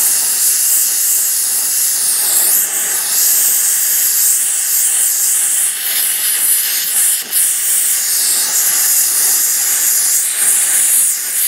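A torch hisses loudly and continuously while heating a nut on a bolt, a dense, steady roar with slight fluctuations throughout.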